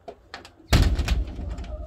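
Pigeons in an aviary give soft low coos and scattered calls, then a sudden loud rustling burst breaks in close by and fades into lighter scraping noises.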